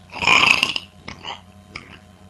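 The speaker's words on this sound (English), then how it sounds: "This is more than random burping." A loud, raspy burp bursts out up close for about half a second, then two shorter, fainter croaking gulps follow at a slight pause.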